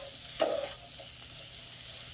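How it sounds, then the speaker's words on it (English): Vegetables sautéing in butter in a pan for a steak and egg sandwich, a soft steady sizzle with one brief utensil clatter near the start, close and fairly quiet, no voices. "Let these veggies saute in this butter."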